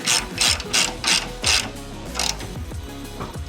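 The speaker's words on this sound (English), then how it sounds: "Here you clearly can use a torque wrench." A torque wrench ratchets on a differential mount nut, giving several quick bursts of clicking in an uneven rhythm, close and clear with no talking.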